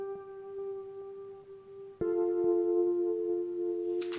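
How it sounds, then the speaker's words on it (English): Rhodes-style electric piano keys from a Massive synth play soft, sustained chord tones that ring steadily at a quiet level, with a second chord entering midway and a brief bright noise near the end. "we have got a sort of Rhodes sound from Massive"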